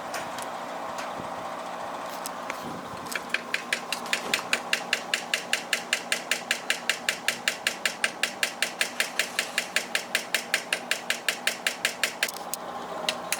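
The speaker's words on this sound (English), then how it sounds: "I gotta knock this pin out" Steady metallic hammer blows knocking out a brake pin on a Hellcat, dozens in an even rapid rhythm, ringing sharply close by over a low background hum.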